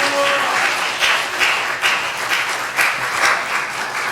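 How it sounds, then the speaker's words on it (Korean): A church congregation welcomes a guest preacher to the pulpit with loud, close applause that swells in rhythmic waves, with a short voice heard at the very start. "우리 나오실 때 크게 박수합니다"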